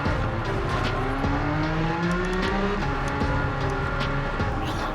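A modified Jaguar XJ220 racing in Gran Turismo 7 roars loudly and continuously, its engine note climbing through gears with shifts and rising whine, no talking.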